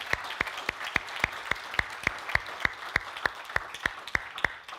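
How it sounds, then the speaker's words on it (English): A church congregation claps for its leaders with about fifteen steady, evenly spaced claps in unison, forming a regular beat that is moderately distant and has no talking over it. "can we just give our leaders a hand clap of praise before God?"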